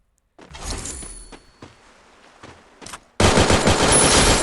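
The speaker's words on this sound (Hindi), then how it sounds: "सामने से मेरे को गन शॉट आते हैं" Gunfire in the Garena Free Fire battle royale game, a few loud sharp shots with gaps between them, then a sustained dense burst of rapid automatic fire at the end, close and loud with no talking.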